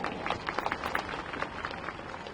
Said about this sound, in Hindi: एक बार चाहूंगी कि आप सब लोग अपने लिए जोरदार तालियां बजाएं।